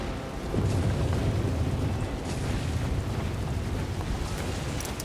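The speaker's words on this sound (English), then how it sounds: "Throwing shock grenade." Shock grenade detonation in Warhammer 40,000: Space Marine 2 during a fight defending a reactor, a deep, sustained rumbling blast filling the scene for several seconds amid dense battle noise.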